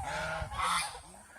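Geese at a goose farm in Mohanganj honk loudly and close by in a short, overlapping burst of harsh calls that trails off. No one speaks.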